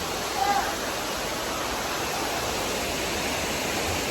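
Dunn's River Falls in Jamaica pours as a steady, dense wash of rushing water, even and unbroken throughout, with a brief faint tone near the start.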